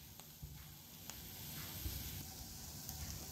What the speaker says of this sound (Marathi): तर बघा, आपली भोंगी मिरची भाजत आली आहे.